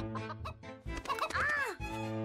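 Cartoon chicken clucking in an animated short, a run of rising and falling squawky clucks, close and fairly loud, with voices mixed in.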